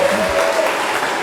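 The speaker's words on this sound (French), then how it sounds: "Je vais vous demander d'applaudir ça, s'il vous plaît" Brief burst of audience applause at a live music show, a dense, even wash of clapping heard close for just over a second.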